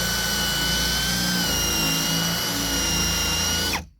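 A power drill with a hole-saw bit bores a doorknob hole through a door, a loud, sustained whining grind with steady high tones that carries on unbroken and then cuts off abruptly at the end.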